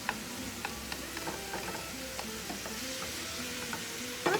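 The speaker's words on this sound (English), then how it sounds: "And then I'll let it cook for a while with the chipotle peppers" Ground meat with chipotle peppers and a little sauce sizzles and fries in a pan with a faint, steady crackle and occasional soft ticks of stirring.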